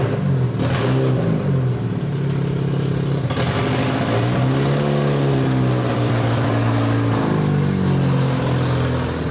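A car engine idles nearby, then revs up a couple of times and pulls away, the low rumble rising and falling in pitch.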